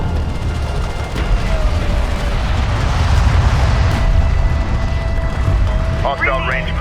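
Explosions and weapon fire rumble continuously around an armored vehicle under attack in the real-time strategy game Homeworld: Deserts of Kharak, a dense, loud battle din with a steady tone, while a voice speaks over it.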